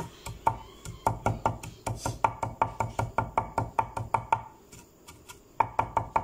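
A knife finely chopping garlic on a board, quick steady taps in a rapid rhythm with a few short pauses, close and fairly loud, no talking.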